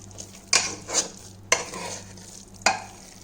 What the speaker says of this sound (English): So I'm gonna stir it well.